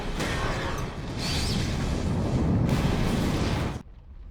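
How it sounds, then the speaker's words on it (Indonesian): Bomb explosion in the film Snowpiercer, a sustained, loud rumbling blast that roars for several seconds before cutting off abruptly into quiet. "Dan bom Kronol ini pun meledak."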